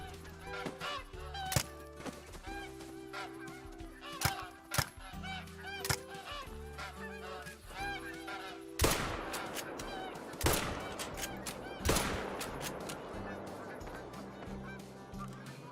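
Geese in a hunting video game give repeated honking calls, near and fairly loud, then a few sharp rifle shots ring out in the second half while the honking carries on.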